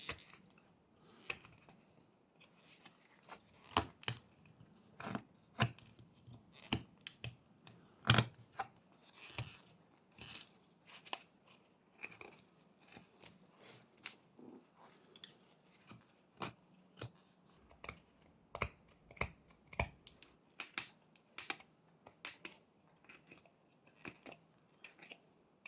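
A knife whittles wood while a fox is carved, producing faint, close, irregular clicks and scrapes of small sweeping and V-shaped cuts, sporadic against a quiet background.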